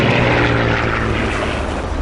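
Propeller airplane engine droning steadily in the flight combat video game Iron Wings, a loud continuous hum with a low tonal rumble, holding constant throughout with no voices.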